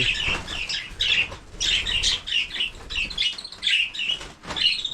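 Parrots chirp in quick, bright bursts at close range, with soft wing flaps mixed in, in a steady, busy pattern and without voices.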